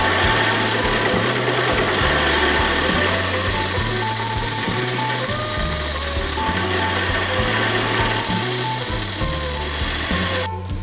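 A pocket knife is sharpened against a running belt sander, giving a loud continuous machine whir with a rhythmic, repeating mechanical pulse throughout and a brief drop at the very end.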